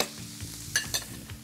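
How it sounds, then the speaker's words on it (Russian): Champignons and onion frying in a pan while being stirred, a low steady sizzle broken by a few sharp scraping clicks of the utensil, close by with no talk. "И теперь я потихонечку буду перемешивать шампиньоны и лук. Пусть оно себе жарится."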